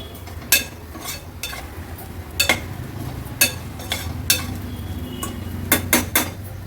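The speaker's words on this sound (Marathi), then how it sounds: "वाटण पण तेलावर व्यवस्थित परतून घ्यायचं आहे आपल्याला।" Ground masala paste sautés in oil while a spoon stirs it, making repeated sharp metallic clinks and scrapes against the pan over a faint low sizzle, with no voices.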